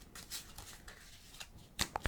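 Soft handling of a deck of playing cards being cut a couple of times, light scrapes and slides followed by a couple of sharp taps as the stack is squared up.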